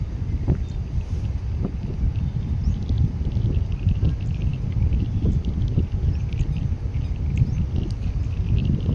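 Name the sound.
wind blowing at a dam among hills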